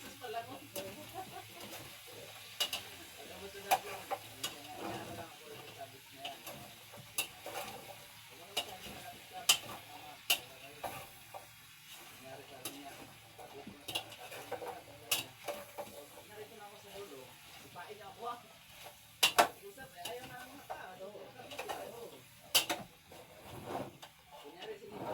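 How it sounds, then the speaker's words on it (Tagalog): A spoon stirs squash stew (golay na kalabasa) in a pot, giving repeated sharp scraping and clinking strokes against the metal over a low simmer, with a voice talking now and then. "haluin natin"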